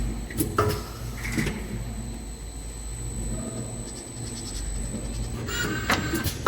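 A four-nozzle liquid filling, capping and labeling machine runs automatically: a steady mechanical hum with a high whine, broken by bursts of clunks and pneumatic clatter near the start and again near the end, with no voices.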